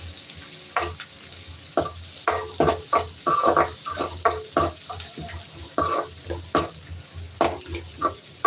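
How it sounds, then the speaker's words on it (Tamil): Squid sautéing in oil over a low flame for a spicy squid fry, an uneven sizzle broken by frequent spatula scrapes and stirring knocks in an irregular rhythm, close and fairly loud. "இது நல்லா வந்து எண்ணெயில் வதக்கிக்கோங்க கொஞ்சம் லோ ஃப்ளேம் வச்சுட்டு பண்ணுங்கள்"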